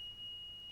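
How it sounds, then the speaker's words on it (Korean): Rollover and tip-over accident detection alarm on a farm machinery terminal fitted to tractors and power tillers: a faint, steady high-pitched tone holding unbroken throughout, with no speech. "농기계 단말기에는 전도나 전복사고 감지 알람 기술도 탑재됐습니다"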